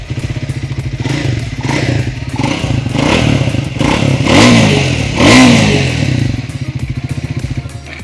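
A Triumph Speed 400 motorcycle engine revs loudly and close, its throttle rising and falling in several swells over a steady, throbbing idle.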